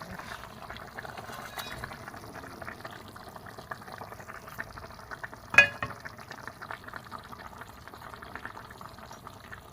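Fish frying in a pan for a Bengali jackfruit curry meal, a steady low sizzle with stirring and scraping throughout, one sharp clatter near the middle, no talking.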